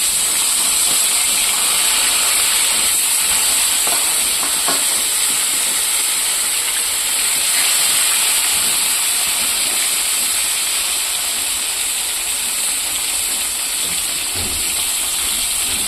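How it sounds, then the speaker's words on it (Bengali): Fish rubbed with salt and turmeric frying in hot oil, a loud, steady hissing sizzle that runs unbroken for about sixteen seconds with faint crackles and no talking. "তেলটা বসিয়ে দিয়েছি গরম, মাছটা ভেজে নেব।"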